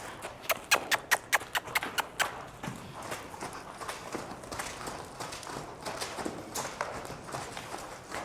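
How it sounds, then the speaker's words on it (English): A mare back in work after foaling trots, hooves clip-clopping in a quick regular rhythm that is crisp and distinct at first, then blurs into softer, steadier footfalls with faint background noise. "That time I only had to lift up my hand and she picked up her trot."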